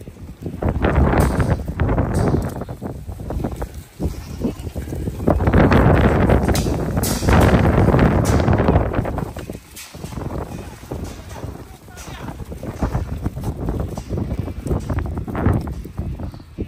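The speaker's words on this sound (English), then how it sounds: "It's a pretty windy day today." Strong gusts of wind buffet the microphone in loud, rough surges that swell and fade over a tall-grass goat pasture, with a brief lull before the roar returns.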